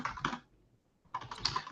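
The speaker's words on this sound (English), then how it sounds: "I was typing an answer" Computer keyboard typing comes in two quick clusters of close, soft key clicks, separated by a short silent gap.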